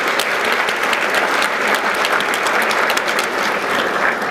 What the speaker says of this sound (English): So let's give a big round of applause for Marana Town Manager Terry Rosema.